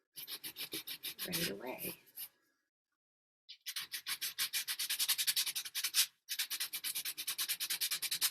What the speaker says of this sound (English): So I'm going to sand over her eye to kind of get her eye to jump out a little bit.